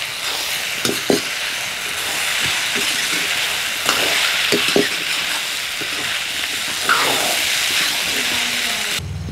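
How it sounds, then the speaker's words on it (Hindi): Potatoes and ground chickpeas fry in a hot pan with a loud, steady hiss, broken by scattered knocks and scrapes of stirring. No one speaks. "अब उसके बाद पिसा हुआ चना डाल देंगे इसमें। अब इसको भी हम भूनेंगे।"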